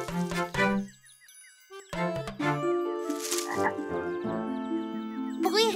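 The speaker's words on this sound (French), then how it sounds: "Peut-être petite grenouille fait bruit quand feuille enlevée." A little cartoon frog croaks in a string of bright, bouncy calls, with playful tinkling chimes and sliding tones in a children's animated show, close and clear with brief gaps of silence.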